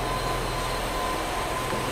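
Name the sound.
electric commuter train arriving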